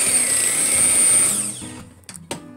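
An electric mixer whirs loudly through cream cheese frosting, running steadily and then winding down and stopping, followed by a couple of brief clinks.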